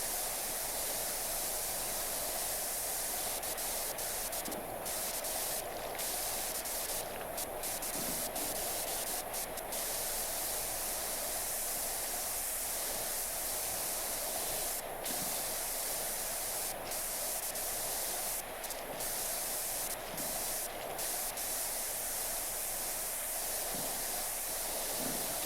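Cleaning spray from a turbo nozzle runs as a continuous broadband hiss, steady and fairly close for the whole stretch, with a few brief sharp clicks or knocks scattered through it and no talking.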